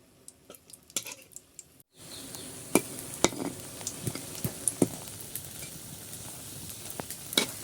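Small cakes frying gently in a pan over low heat give a steady soft sizzle. Sharper pops and spatters break through now and then, close by, with no talking.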